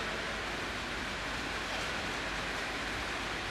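Heavy rain pours down during an outdoor talk in Goa, a dense and steady hiss that stays loud and unbroken throughout with no pauses or clear voices.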